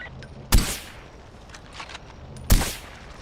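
Two sharp, loud gunshots in Far Cry 4, about two seconds apart, each with a short echoing tail over quiet game background.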